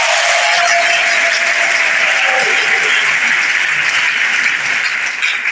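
Sustained, loud applause from an audience cheering the first graduating class of 98 students at an institute academy ceremony, dense clapping filling the whole stretch with a faint tone early on and no clear talk.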